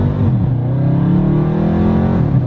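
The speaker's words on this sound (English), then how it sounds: "let's just do a 0-60 pull real quick" A 2019 Dodge Charger Scat Pack accelerates hard from a stop in a 0-60 run, its engine roaring loud and close with rising pitch as it climbs through the revs.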